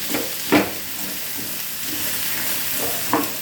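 Beans frying in a pan give a steady close sizzle, and a spoon stirring them adds a few soft scrapes and clacks.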